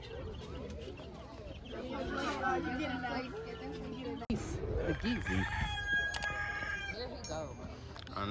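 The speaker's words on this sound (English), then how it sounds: "Look at all those chickens." Chickens clucking and a rooster crowing repeatedly at a farm, fairly close, with people talking over the birds.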